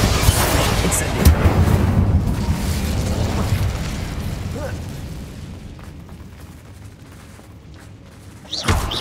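A fiery Confringo explosion spell in Hogwarts Legacy gives a loud, rumbling blast that slowly fades over several seconds, followed by a sharp impact near the end.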